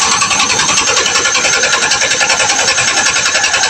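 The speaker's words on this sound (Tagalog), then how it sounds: "So tutry na natin tayo starter." A starter motor cranks a disassembled engine that has lost compression, a fast, even whirring churn with rhythmic pulses, loud and close throughout, with no catch or firing.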